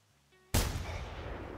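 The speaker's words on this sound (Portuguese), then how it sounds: "Disparo feito." A single loud rifle shot rings out in the Horns & Tusks hunting video game during a goat hunt, a sharp blast trailing into a long rumbling echo after a brief quiet interface tone.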